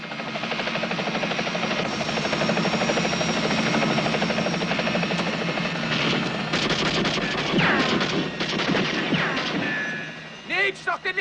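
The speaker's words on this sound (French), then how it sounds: "Je vous signale que 3 hélicos nous suivent." Helicopters flying nearby in a chase over an orange grove, a steady loud rotor drone filling the scene, with intermittent crashes and bangs layered on top and talk mixed in.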